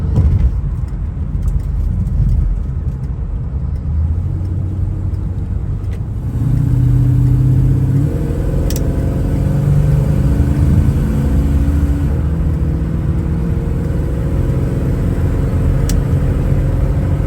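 A 1978 Aston Martin V8 Coupe accelerates along a highway with a loud, continuous engine drone and road rumble. Partway through, the engine note shifts and climbs as it pulls harder, with no talking over it.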